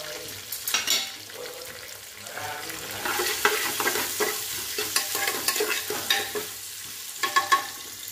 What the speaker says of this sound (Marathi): कट केलेला कांदा टाकूया